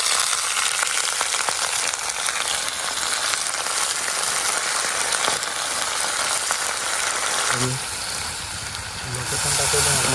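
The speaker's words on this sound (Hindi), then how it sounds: "प्याज मिर्चा भी डाल रहे हैं। देखिए चिकन को डाल रहे हैं।" Chicken frying with onion and green chillies in a pan outdoors in a forest, a loud, dense, continuous sizzle that thins out slightly near the end.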